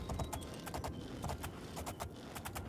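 Horse hooves in the Oblivion video game clip-clop at a steady trotting rhythm, faint and even, with no talk over them.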